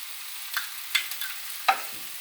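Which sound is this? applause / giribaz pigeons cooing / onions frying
onions frying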